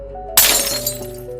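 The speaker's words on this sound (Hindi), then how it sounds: "उनके हाथ से पानी का ग्लास गिर गया।" A glass of water drops and shatters, one sudden bright crash followed by a short scatter of tinkling shards, close and loud over a faint sustained music bed.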